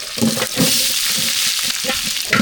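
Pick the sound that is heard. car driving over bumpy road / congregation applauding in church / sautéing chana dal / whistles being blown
sautéing chana dal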